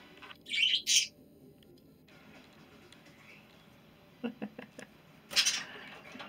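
Bird chirps outdoors, one a bluebird: a few bright, high tweets early on, then a short run of quick clicking chirps and a last louder burst, all faint and some distance away in a quiet setting.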